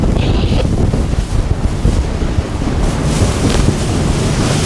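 A 2019 Ribeye S785 rigid inflatable boat drives straight into a head sea off the UK south coast, with loud, constant rushing wind buffeting the microphone and spray and wave noise over the hull, steady throughout with no talk.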